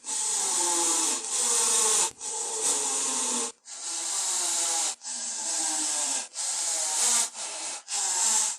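Small screws being driven by hand into maple to fit hinges on a wooden jewelry box, heard as a series of close, loud rasping bursts separated by short pauses.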